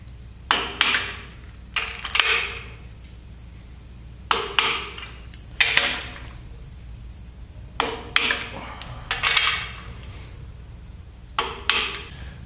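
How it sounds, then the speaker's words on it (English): Torque wrench tightening crankshaft main bolts on an AMC 401 V8 engine in stepped increments, with repeated bursts of ratcheting clicks separated by pauses, loud and close. "I'm step torquing it here in 3 equal increments from the inside out."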